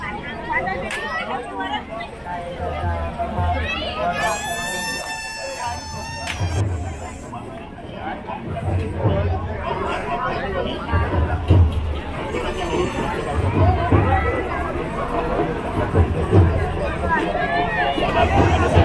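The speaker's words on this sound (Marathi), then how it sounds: "इकडे आता जत्रेमध्ये सुद्धा तुफान गर्दी आले" Dense crowd hubbub fills a Datta Jayanti temple fair in Pombhurle Patgaon, Devgad, Sindhudurg, Konkan, with many overlapping voices, a brief whistle-like tone early on and low thumping pulses recurring throughout.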